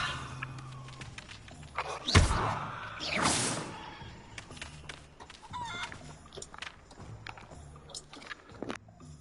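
Chickens in the game Hogwarts Legacy cluck and flutter amid scattered clicks and scuffs, with a couple of louder bursts of flapping early on and quieter clucking throughout.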